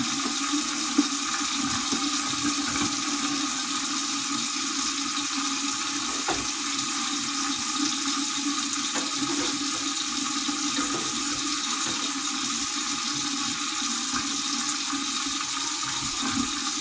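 Cooked spaghetti noodles rinsed under a running kitchen tap, a steady loud rush of water that holds unbroken from start to finish, with no talking over it.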